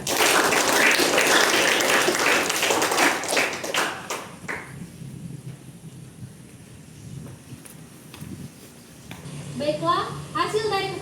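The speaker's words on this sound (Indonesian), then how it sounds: "Sekali lagi beri tepuk tangan kepada beliau." Dense audience applause at a school film performance about Sumpah Pemuda fills the first few seconds, then fades out as a voice begins speaking.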